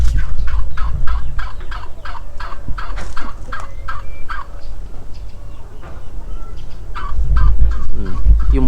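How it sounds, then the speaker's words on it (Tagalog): A turkey perched on a house roof gobbles repeatedly in loud, rapid bursts, close by and steady through the stretch, with a low rumble underneath. "Yung pabo. Nangangarap makalipad. Nakasampa sa bubong."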